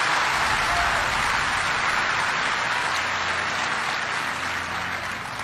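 Sustained applause from a large church congregation, dense continuous clapping at a loud, even level throughout, with no speech over it.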